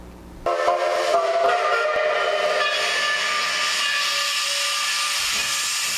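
Three steam locomotives double-heading as a triple header on the Rails Northwest Rainier Rambler sound their whistles together, a loud sustained chord of layered tones with steam hiss, starting abruptly and holding steady near at hand.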